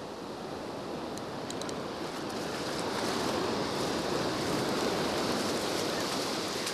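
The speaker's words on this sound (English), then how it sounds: "Always use the wave power to get the fish up." Ocean surf washing up onto a fishing beach, a broad, steady roar of breaking waves and foam that swells slightly louder toward the end, with wind noise and no talking.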